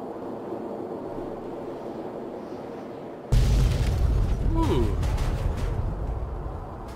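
Heavy explosive blasts in the Fallout 3 Operation Anchorage game: a sudden loud boom after a quieter rumbling stretch, followed by sustained rolling thunder and debris with a brief whistling streak.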